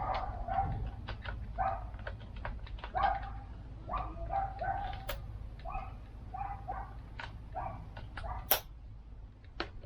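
Dogs bark repeatedly in the background at a moderate distance, in irregular bursts over a low steady hum, with a few faint bird-like chirps.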